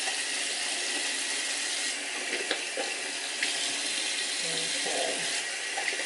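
Water runs steadily from a bathroom sink tap as it warms up for face washing, a continuous close hiss with small splashes and clinks, no talking.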